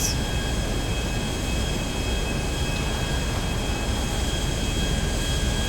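A plane's engine drones steadily in flight in the game GTA 5, a loud, unbroken roar with a faint high whine and no voices.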